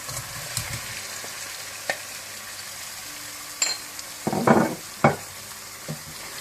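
Mutton is stirred into frying tomatoes, with a low background sizzle broken by scraping spoon strokes and a few louder clattering stirs near the pan.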